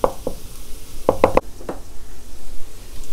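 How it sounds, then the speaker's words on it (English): Garlic and green onion tossed into a hot wok with a tablespoon of flavorless oil over medium-high heat, a soft steady sizzle broken by several sharp close knocks of a spatula against the pan. "Garlic and green onion going in"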